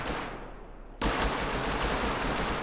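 Rocket launcher shot in the survival game Rust during a clan base raid: a sudden loud blast at about one second, then a sustained dense roar of explosion and rumble that fills the rest of the moment.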